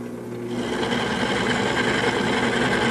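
Wood lathe turning a bed post as a wide gouge cuts along the spinning wood, starting with a steady hum that swells into a loud continuous rumbling cut, close and without talk.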